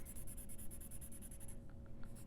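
A marker or crayon colors in a paper moon shape with fast, rhythmic back-and-forth scratching strokes close up, then a short pause before the strokes resume.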